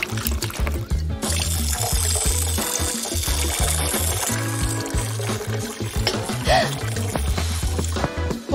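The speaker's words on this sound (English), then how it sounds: "Just add water." Water poured into a cat water fountain, a continuous close trickle and splash over a low, steady hum, running for several seconds without pause.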